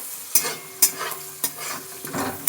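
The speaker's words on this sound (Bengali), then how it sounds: "আগে এগুলো একটু ভাজা করে নিই।" Ingredients for fried rice fry in a pan while a spatula stirs them. Five sharp scrapes come at a loose rhythm over a soft, steady sizzle, with no speech.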